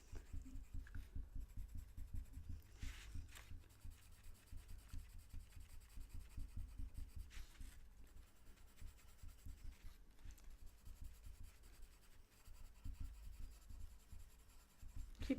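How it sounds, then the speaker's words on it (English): Light grey pencil outlining small shapes on paper with a soft, close, continuous scratchy rubbing in quick short strokes, steady throughout with brief pauses and no talking. "So I'm just going to go around each of the little shapes just with a very light grey pencil."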